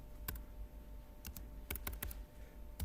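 Computer keyboard keys clicking in short scattered bursts of typing, fairly close, with pauses between clusters and no voices.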